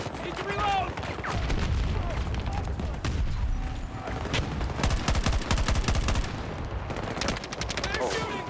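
Video game gunfire rattles in rapid automatic bursts and single cracks, loud and dense across the whole stretch, with a player's voice shouting over the shooting.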